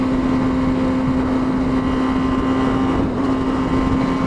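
A 1000cc motorcycle holds high revs in sixth gear at top speed on a night ride, giving a loud, continuous engine drone with a steady whine and heavy wind rush, and no voices.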